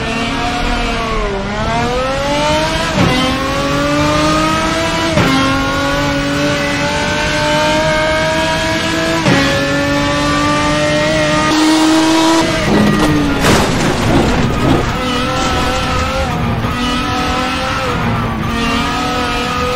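A RaceRoom Experience race car on the Lakeview Hillclimb full run screams loudly, its engine revving up through rising gear pulls with sharp drops at each shift, plus a brief tire squeal partway through, no talk over it.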